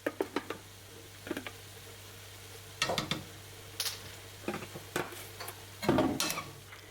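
Fresh garlic frying in a pan sizzles faintly beneath a series of sharp utensil knocks and scrapes against the pan, coming in irregular clusters with quiet gaps between.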